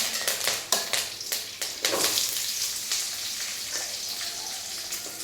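Mustard seeds, fennel seeds and curry leaves frying in hot oil in a pan, a dense continuous sizzle with sharp popping crackles early on, close and steady, no talking.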